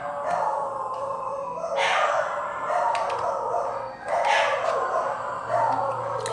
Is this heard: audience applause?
no